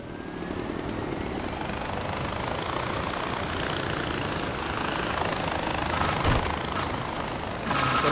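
Helicopter flying in Far Cry 4, a steady, loud rotor and engine roar that holds without a break. A few brief clanks come near the end.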